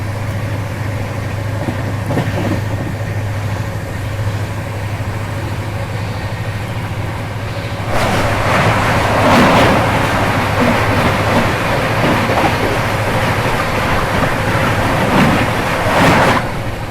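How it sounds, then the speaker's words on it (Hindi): Sikkim Mahananda Express passing on the adjacent track, heard from inside a moving superfast train: steady rolling rumble, then after about eight seconds a sudden louder roaring rush of the crossing train alongside, close and sustained. "अब समय हो चला है सिक्किम महानंदा एक्सप्रेस के साथ अपनी क्रॉसिंग देखने का"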